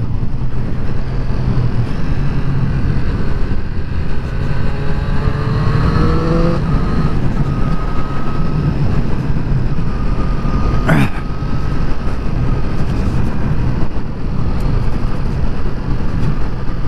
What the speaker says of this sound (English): You just can't beat that sound of that triple engine, can you?